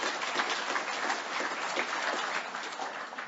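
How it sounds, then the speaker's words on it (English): Steady audience applause fills a conference hall at a Canadian convention session, a dense, even wash of many hands clapping for a few seconds without pause, with no speech over it. "Give yourselves a hand."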